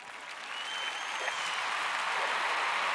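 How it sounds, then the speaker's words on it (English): Crowd giving a round of applause at a subscribers show, a bright wash of clapping that swells up and stays loud and sustained. "Let's give that a round of applause."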